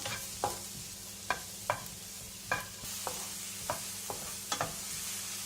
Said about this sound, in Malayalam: ഇത് നമുക്ക് ലോ ഫ്ലെയിമിൽ വെച്ചിട്ട് ഒന്ന് സോട്ട് ചെയ്തെടുക്കാം